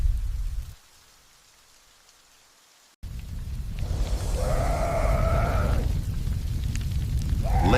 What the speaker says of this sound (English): Acid rain falls, scorching and burning primeval forests.